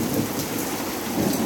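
Steady, dense rain with a low rumble of thunder falls throughout a Queensland hailstorm, broadband and continuous at close range with no voices.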